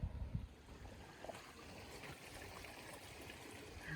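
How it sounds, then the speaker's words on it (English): A river flows at the Santa Fe National Forest near the ski basin, heard as a soft, steady wash of water with a brief low rumble at the start, faint and continuous with no talk. "There's already a river."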